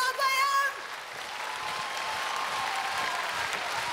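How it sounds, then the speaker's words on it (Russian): Sustained applause from a festival concert audience follows a brief high tone at the start, the clapping a steady, dense wash that continues evenly throughout. "Все-все-все хлопаем!"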